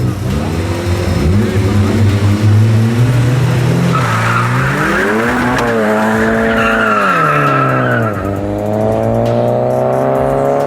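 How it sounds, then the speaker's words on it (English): A Tweak Performance Golf 7 GTI drag racing a VR6 Turbo Golf 2 over a quarter mile, engines howling loud and close as they climb through the gears, with tire squeal, and a voice talking over the noise. "the Tweak Performance Golf 7 GTI is going to race George in his VR6 Turbo Golf 2"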